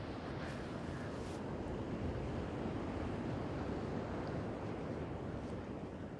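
Surf rolls in steadily at Castlepoint beach on New Zealand's coast, a continuous broad wash of breaking ocean waves with some wind buffeting the microphone throughout.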